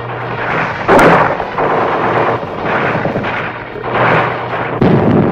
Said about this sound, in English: Gunfire roared in the streets and panic spread throughout the population.